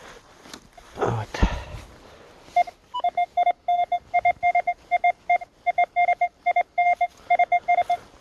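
A metal detector in digital mode gives a rapid series of short, steady electronic beeps, close and loud, after a few seconds of rustling and handling noise.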